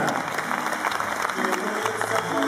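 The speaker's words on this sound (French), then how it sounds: "voici vos parrains que je vous demande d'applaudir très fort" An audience at a graduation ceremony applauds the sponsors with steady, dense clapping that fills the room, and a voice is heard over it.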